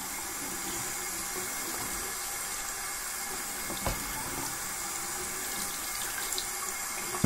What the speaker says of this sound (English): I've been running this water for a while.